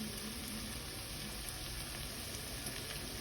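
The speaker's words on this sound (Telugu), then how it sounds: "కొత్తిమీర వేసి బాగా ఫ్రై చేసుకోవాలండి" Coriander and spices frying in a pan for a vegetable gravy of capsicum, drumstick and tomato, a steady soft sizzle with no pauses, close but fairly quiet.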